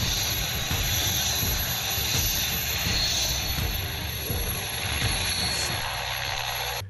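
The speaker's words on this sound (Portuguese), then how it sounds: "o apóstolo Valdemiro Santiago chega em seu helicóptero novinho." A new helicopter arrives with a steady, loud broadband roar and hiss of rotor and turbine that holds throughout, then cuts off abruptly at the very end.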